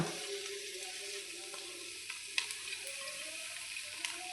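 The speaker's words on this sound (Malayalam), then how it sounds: "ഇനി നമുക്ക് ഇതിലേക്ക് നമ്മളെ പൊന്നങ്ങണ്ണി ചീര ഇട്ട് കൊടുക്കുകയാണ് കേട്ടോ" Ponnanganni spinach dropped into garlic frying in a pan for a Kerala thoran, giving a steady soft sizzle with a few stirring scrapes and clicks, alone without talk.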